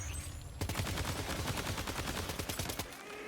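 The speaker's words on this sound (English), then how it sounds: "Switch to assault rifle." Rapid assault rifle fire in Death Stranding 2 erupts loudly after a brief quiet moment, a dense, steady stream of shots that runs for about two seconds before easing off.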